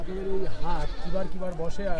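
Goats bleat loudly and repeatedly nearby at a busy livestock market, wavering nasal cries overlapping one another.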